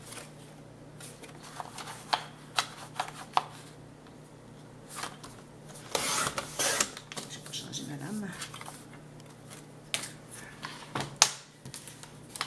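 Cardboard being cut, two layers at once, during a scrapbooking project: a series of short crisp snips and scrapes at an irregular pace, close by and fairly quiet, with a brief busier stretch of rustling partway through.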